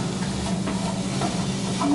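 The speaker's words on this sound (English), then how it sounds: "now you just saute until everything softens up a bit, about 5 minutes" Vegetables sautéing in a pan for fried rice, a steady close hiss and sizzle with a few faint stirring scrapes, continuous and even, no talking.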